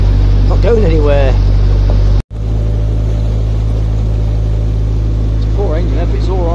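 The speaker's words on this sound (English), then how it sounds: "I've got the revs on high, I'm not going anywhere" A narrowboat engine held at high revs while stuck in canal weed, a loud steady drone with one short dropout; someone talks over it near the start and end.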